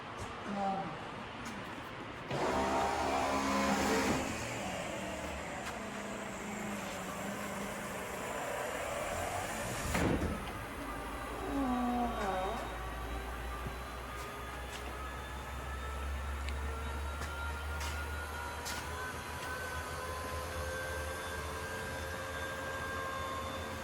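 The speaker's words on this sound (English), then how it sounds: "Maybe you should start the engine." A 1964-66 Ford Thunderbird engine cranks and catches with a burst a few seconds in, then a second surge, and settles into a steady low idle heard close by for the rest of the stretch.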